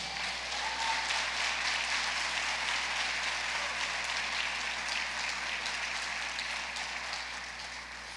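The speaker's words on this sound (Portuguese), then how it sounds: "Aplauda o Senhor Jesus" Applause fills a church congregation during a sermon, a steady wash of many hands clapping at moderate distance for the whole stretch, fading slightly at the end.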